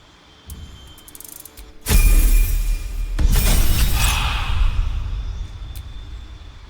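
Shatter spell effect in the video game Baldur's Gate 3: a sudden loud crystalline burst that breaks into ringing, shattering debris, then a second surge that fades slowly.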